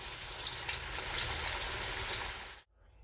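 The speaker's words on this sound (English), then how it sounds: "I'm gonna cook this on each side for 4 to 5 minutes." Meatballs sizzling in a pan for a Greek meatballs-with-tzatziki dish, a steady close crackling fry that runs loud for over two seconds and then cuts off abruptly, with no talking.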